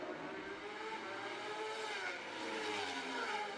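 Racing motorcycles at Macau Motorcycle Grand Prix qualifying, a steady, dense engine roar that holds throughout, with no breaks or pauses.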